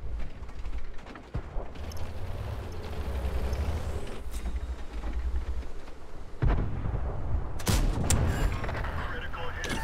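Tank cannon fire in World of Tanks, with several loud booming shots over a rumbling battlefield, a sharp blast near the start and heavier bursts in the closing seconds, and a voice speaking intermittently underneath.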